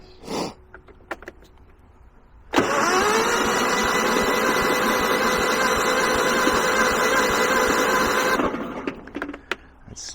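A lawn tractor engine that turns over but won't start cranks in one long, steady, loud burst of about six seconds, whirring without catching, then stops, with faint handling noises before and after.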